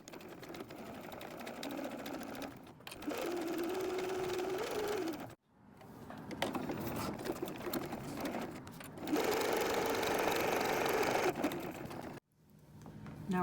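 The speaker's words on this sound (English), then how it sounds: "So we'll sew with the cork up for both." A sewing machine top-stitches a cork fabric wallet with the cork side up, running in steady whirring bursts with brief pauses between seams, close and clear with no talk.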